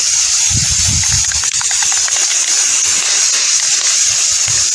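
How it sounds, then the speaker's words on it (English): Aerosol can of rose gold spray paint hissing steadily onto a glittery winter wreath, a loud continuous spray close to the mic with a few faint rattles and clicks underneath. "So now I'm going to start spray painting it with"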